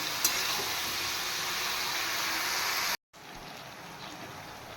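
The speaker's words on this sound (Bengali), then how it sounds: "এবার সবজিগুলো ফ্রাই করে নেব" Mixed vegetables fry in a pan with salt and turmeric, giving a loud, continuous hiss and sizzle that briefly cuts out, then resumes slightly quieter.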